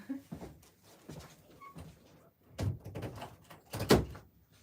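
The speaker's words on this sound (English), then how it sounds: "Let me close this door." A door closes indoors, with a few knocks and thuds that build to a sharper bang near the end, set among faint shuffling and movement sounds at moderate distance.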